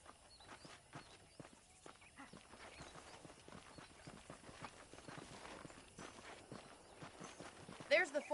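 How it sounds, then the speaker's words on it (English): Steady clip-clop of horse hooves walking at an even pace in the video game Red Dead Redemption, with a voice talking over the steps throughout. "The horses are saddled up over here."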